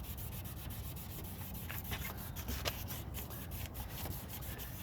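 Wet sanding of a fogged plastic car headlight with fine-grit paper, giving a steady, close scraping rub that runs continuously without pause and with no voices.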